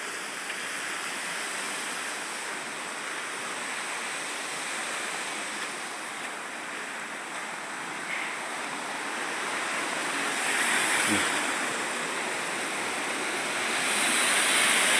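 Water rushing through the gates of Buggavanka dam as a continuous broad roar, loud and steady, swelling slightly toward the end with some wind buffeting the microphone.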